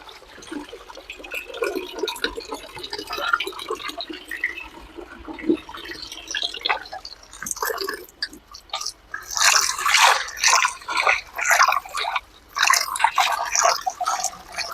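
Water splashes and drips from freshly rinsed moringa leaves being handled and drained in a basket, irregular wet sloshing and trickling bursts close by that grow busier and louder toward the end, with no talking.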